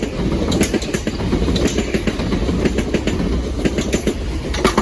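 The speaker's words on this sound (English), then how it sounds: "Next train to pass by will be a pair of Southern 377s bound for Victoria." A pair of Southern Class 377 electric multiple units bound for Victoria pass close by near Battersea Park and Clapham Junction, with a loud continuous rumble and rhythmic clickety-clack of wheels over rail joints.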